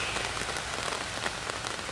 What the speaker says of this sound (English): Not only is the occasional downpour a relief from the heat, with an umbrella I can keep on shooting